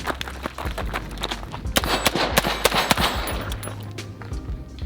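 Gunfire from a lightweight all-metal 2A Armament BLR-16 AR-15 rifle on a shooting range, a dense run of sharp shots and echoing cracks, some rapid and overlapping, heard from nearby amid outdoor noise.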